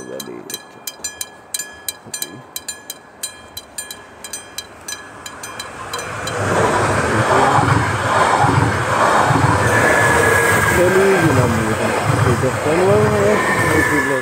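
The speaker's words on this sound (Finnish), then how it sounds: "koska tuo oli y-juna" A Y-train passes on the railway at Mankki. Light rhythmic clicking at the start swells into a loud, close, sustained rumble and roar as the train rolls by.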